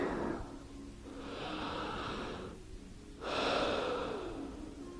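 Slow, deep breaths drawn close to the ear while resting in child's pose at the end of a beginner Pilates mat workout, with two long airy inhale-exhale swells and no talking.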